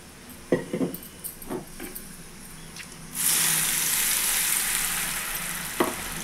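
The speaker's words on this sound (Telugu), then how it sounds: "ఇప్పుడు ఇదే ఆయిల్లో మనం ముందుగా చేసి పెట్టుకున్న ఆనియన్ టమోటా పేస్ట్ని వేసుకున్నాము" Onion and tomato paste drops into hot oil left from frying prawns and bursts into a loud, continuous sizzle halfway through, after a few light clinks and taps of utensils against the pan.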